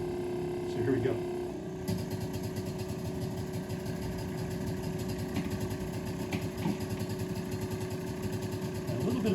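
A vacuum device on a deck purge box, used to seal a cylinder, switches on after about two seconds and runs with a steady, close mechanical drone. Talk and handling noises are heard over it.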